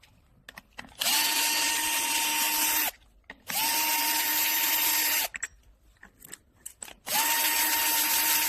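A power drill backs screws out in three sustained whirring bursts, each about two seconds long, with short quiet gaps between them and no talking.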